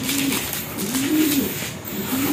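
A racing pigeon coos softly in a low, repeated rolling call, several phrases in a row against a steady background hiss.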